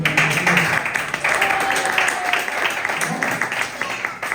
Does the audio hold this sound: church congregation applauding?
yes